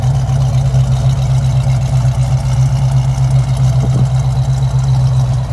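A restored, matching-numbers 1973 Plymouth Cuda with its 340 V8 runs at a steady, loud idle. The low, even rumble holds unbroken throughout with no talk over it.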